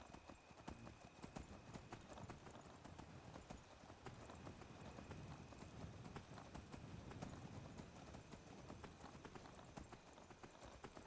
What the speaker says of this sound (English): Come on, horse. You're supposed to be better than normal horses.